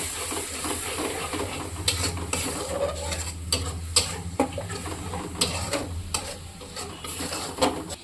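Poppy seed paste is stirred and sautéed in a pan. A spoon scrapes in repeated rhythmic strokes over a soft, steady sizzle, with occasional clinks against the pan.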